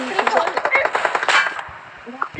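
Bursts of rapid gunfire in PUBG Mobile, loud, quick repeated shots over about a second and a half, then quieter with a few scattered sounds.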